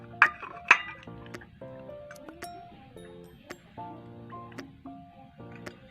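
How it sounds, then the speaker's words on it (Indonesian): A glass set down over a burning candle on a plate of coloured water, heard as a few sharp glassy clinks followed by light ringing taps and tonal chimes, close and clear. "lalu tutup lilin menggunakan gelas."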